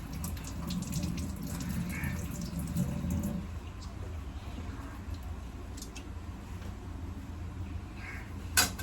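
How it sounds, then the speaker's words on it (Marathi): Tap water runs steadily into a sink while hands are washed, a constant close splashing wash with faint clinks, no talking. "अभी हम करेंगे हँड वॉश"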